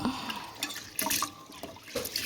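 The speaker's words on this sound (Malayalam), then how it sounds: "അരി കഴുകി കഴിഞ്ഞു" Bran-rich white rice washed in water, with close sloshing, splashing and swirling bursts in uneven handfuls, several sharper splashes standing out, no talk.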